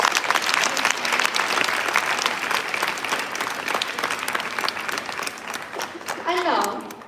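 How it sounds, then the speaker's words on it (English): A large audience at a girls' school event in Jaipur applauds a speaker in a dense, sustained round of clapping that fills the room, easing slightly toward the end as a voice begins over it. "Please join me in giving him a resounding round of applause."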